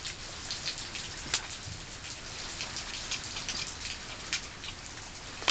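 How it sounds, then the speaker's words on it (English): Steady rain falls outdoors on a cold day, a dense continuous patter of drops with a few louder splashes close by, alone with no voices. "It's cold and rainy today."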